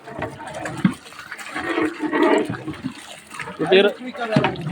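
A large volume of water, about 25 litres, pours and splashes into a big cooking pot for a 25 kg beef biryani, a steady rushing flow heard close up while someone talks over it.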